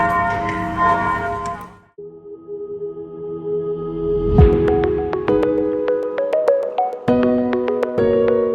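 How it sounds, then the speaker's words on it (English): Church bells of the Co-Cathedral of St. Peter and St. Paul in Bosnia and Herzegovina ring out at noon in overlapping, resonant strikes, some loud and close, with long ringing tones layering over each other and an irregular pealing rhythm. "And it's noon, so the bells are ringing."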